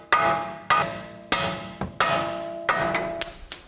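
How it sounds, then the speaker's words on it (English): Five or six sharp metallic hammer blows land at uneven intervals as bolts are hammered out of a 2009-2017 Chevy Traverse strut, each leaving a short ringing clang, with a thin high tone near the end. "Now carefully hammer out these bolts."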